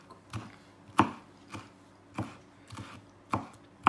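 A knife chops on a cutting board in sharp, separate knocks, about eight of them at an uneven pace, close and clear against quiet.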